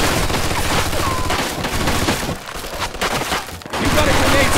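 Sustained machine gun fire in a Mafia 2 World War II battle in the old country, loud, dense bursts of gunshots with sharp wooden cracks, briefly easing before resuming, under shouted voices.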